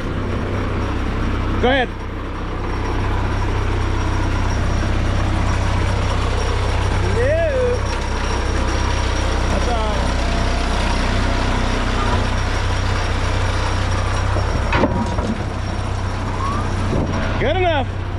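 A truck engine drones steadily nearby, a low, even hum that holds throughout, while people speak briefly now and then over it.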